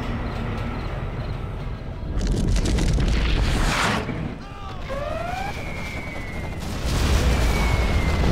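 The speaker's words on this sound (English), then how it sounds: "Our Scudstorm has been launched." Scud Storm missile launch in Command & Conquer Generals Zero Hour, a battle game: heavy rumbling booms and blasts swell in loud waves, with rising whistling streaks of missiles in the middle, dense and continuous throughout.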